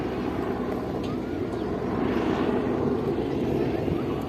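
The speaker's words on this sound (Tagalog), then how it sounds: "Ang daming, eroplano, helicopter na dumadaan, no?" Aircraft passing overhead near an airport, a steady broad engine drone that swells slightly in the second half, heard outdoors with low background rumble.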